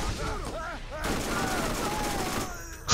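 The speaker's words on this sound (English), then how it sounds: "What's with all the flipping explosions?" Dense bursts of gunfire and explosions from the video game Borderlands, in The Secret Armory of General Knoxx expansion, roar loud and continuous after a brief stretch where a voice is heard.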